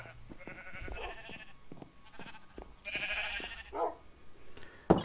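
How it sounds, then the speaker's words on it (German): Sheep bleat in a Minecraft-style building game on a multiplayer server, several short, moderately loud calls scattered over a few seconds against faint background noise. "Schafe."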